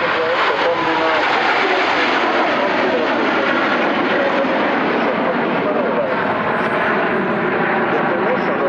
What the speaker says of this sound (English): another barrel roll for the 9 aircraft of the main group